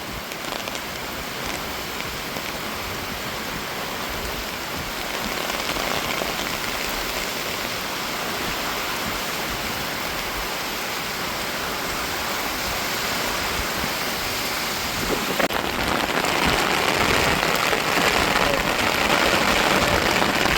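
Strong wind drives heavy rain in a dense, continuous roar that swells louder toward the end, with no talk heard over the storm.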